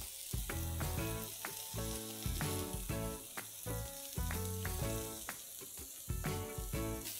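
Reshmi kebabs sizzle on a grill while being basted with butter, giving a constant crackling fry with irregular clicks and taps from handling, close and moderately quiet.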